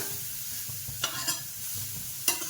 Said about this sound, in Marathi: गाजर चांगलं परतून घ्यायचं असं जरा.